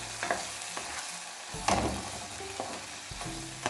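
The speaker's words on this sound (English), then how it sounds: "I'm adding the tomatoes last after I had sauteed the first sets of natural seasoning" Natural seasonings and tomatoes for ackee and red herring stirred in a pan, with a soft steady sizzle, scraping stir strokes and a few louder clatters of the spoon against the pot.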